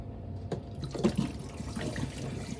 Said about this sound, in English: Let's run some water down and see if it'll go down the P-trap.